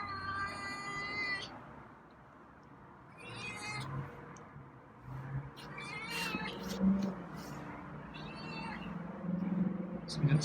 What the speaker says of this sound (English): So we got some nice meows